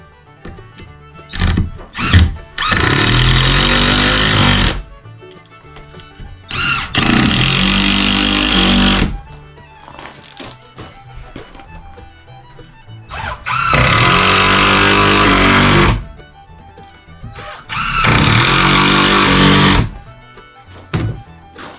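A power drill drives screws into the back of a hoarder processing station, four loud whirring bursts of a few seconds each separated by quieter clicks and handling knocks.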